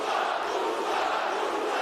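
Dense, steady roar of a large Dubai arena crowd cheering at an MMA fight, Usman Nurmagomedov versus Alfie Davis, a broad unbroken wash of voices filling the whole moment with no single speaker standing out.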